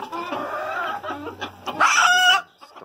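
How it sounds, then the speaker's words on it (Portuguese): A young Japanese Silkie rooster, a naked-neck Polish cross nearly grown, clucks close by in a string of short calls, ending with a louder, rougher burst before falling quiet. "Isso aqui é um frango."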